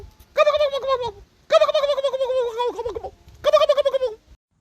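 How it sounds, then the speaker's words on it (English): Three loud, close bursts of turkey gobbling, each a rapid warbling rattle, separated by short silences. "the only ones hiding today are the turkeys."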